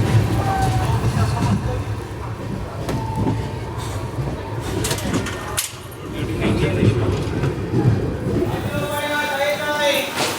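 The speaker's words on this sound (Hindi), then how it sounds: "सो 6:06 पर हमारी ट्रेन पहुंची है अकोला जंक्शन" Mumbai Amravati Superfast Express rolling into Akola Junction, a loud steady rumble with clattering wagons and a brief squeal near the end, heard from inside the train.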